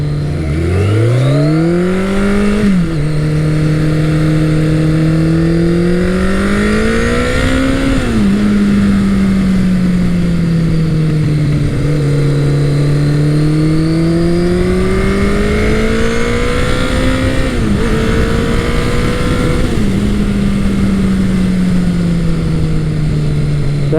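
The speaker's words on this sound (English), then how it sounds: "The sound from that motor is just kind of a jet engine whine" A loud Kawasaki ZL900 Eliminator motorcycle engine close by revs up and down in long sweeping waves, its pitch rising and falling with a jet-like whining tone throughout.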